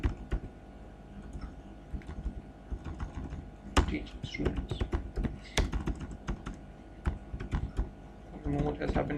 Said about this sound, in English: I don't know what has happened to my typing